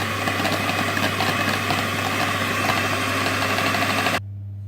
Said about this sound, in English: I'm going to whisk my egg yolks with the cream cheese.